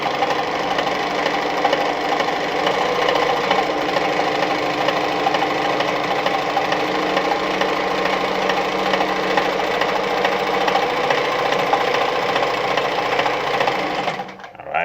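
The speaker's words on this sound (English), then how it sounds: "I'm sewing this green one now, which is the dotted zigzag" An Adlerina 240A sewing machine runs continuously while stitching a dotted zigzag, a steady mechanical whir with rapid needle clatter that holds for the whole stretch and stops near the end, with no talk.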